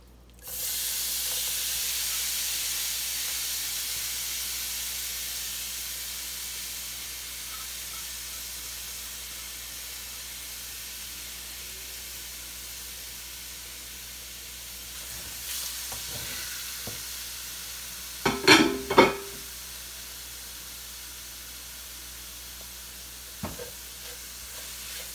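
Marinated shrimp fry in a little olive oil in a pan, a loud, steady sizzle that starts strong and slowly eases off, with a few brief utensil clinks near the end and no talking.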